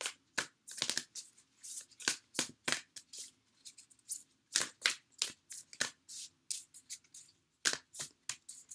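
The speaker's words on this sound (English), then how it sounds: "I'm going to go ahead and pull one more card for a healing message." Tarot cards being shuffled and drawn, with a rapid series of crisp riffling flicks and soft card slaps at close range, no talking.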